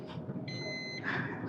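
Seat belt warning chime inside a Maruti Suzuki Swift on a highway road trip, a steady high electronic beep tone held for about half a second over constant road and engine rumble.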